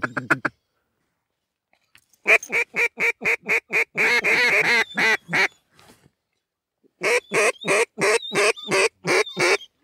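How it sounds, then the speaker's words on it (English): Ducks on open water with no wind give bursts of loud, rapid quacking, a run of evenly spaced calls, a tumbling chorus, a lull, then another steady series of close, sharp quacks. "Got 7 ducks out in front of us right now."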